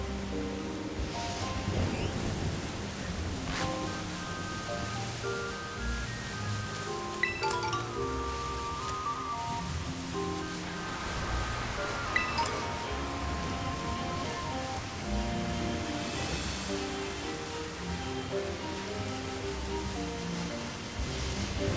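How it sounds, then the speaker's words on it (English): Heavy rain falls in Pokemon Violet, a dense continuous hiss of downpour running steadily for over twenty seconds with game music tones layered over it and no talking. "It is quite raining heavily."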